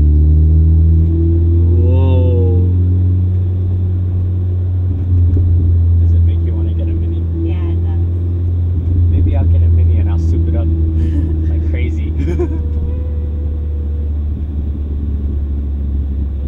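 A Mini Cooper S idles and rolls along with a steady low engine drone throughout, while people talk inside the car over the rumble.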